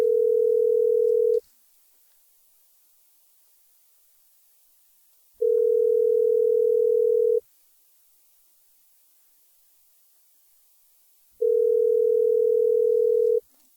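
Telephone ringing tone on an outgoing call, three loud steady tone bursts of about two seconds each, separated by roughly four seconds of silence, alone with no voices.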